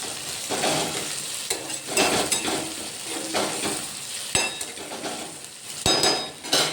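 Vegetable curry is stirred in a pan, with continuous frying sizzle under repeated scraping strokes of a spoon and occasional metallic clinks against the pan, close and moderately loud.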